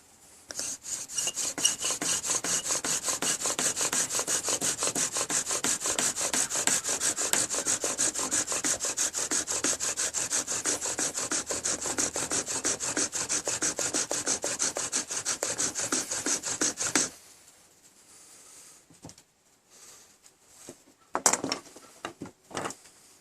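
A handheld bowstring drill spins a wooden spindle with fast back-and-forth rubbing strokes, a rhythmic wooden rasping close by that runs for about seventeen seconds, then stops, leaving a few scattered knocks and handling sounds.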